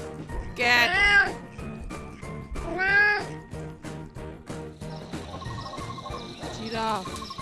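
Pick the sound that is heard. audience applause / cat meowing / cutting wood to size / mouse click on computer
cat meowing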